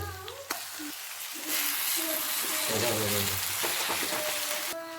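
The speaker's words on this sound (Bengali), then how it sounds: "এখন আমি খুন্তি দিয়ে টমেটোগুলোকে একটু গেলে দেবো।" Tomatoes softened with onions are pressed and mashed with a metal spatula in a hot pan, giving a steady close sizzle with scraping and stirring bursts throughout.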